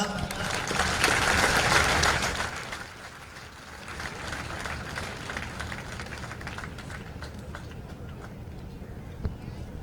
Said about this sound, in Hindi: दर्शकों से अनुरोध, जोरदार तालियां।